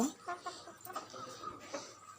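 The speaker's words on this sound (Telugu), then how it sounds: "చూసారా మా కోళ్ళు" Chickens cluck softly in short bursts, several birds close by making quick, irregular clucks with a faint background hum.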